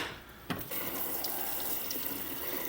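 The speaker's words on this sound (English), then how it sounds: "Rinse this off." Tap water runs steadily into a sink while something is rinsed under it for a pea salad. The stream is loud and close, with a brief splash near the start.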